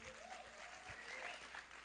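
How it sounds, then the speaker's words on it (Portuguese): Faint clapping from a youth church service congregation welcoming visitors, a brief continuous patter with murmured voices underneath. "Uma salva de palmas aos nossos visitantes."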